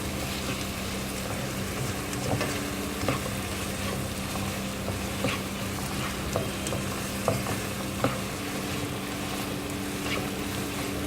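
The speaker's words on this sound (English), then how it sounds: "I've actually used 1 teaspoon of chili powder, half a teaspoon of turmeric powder, and half a teaspoon of garam masala. So give it a good stir." Vegetables frying with chili powder, turmeric and garam masala are stirred in a pan for Indian-style pasta, a steady sizzle with scattered utensil scrapes and clicks throughout.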